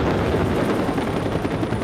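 A police helicopter thunders overhead at a tense factory labor standoff, its rotor giving a loud, continuous beating roar that fills the whole moment.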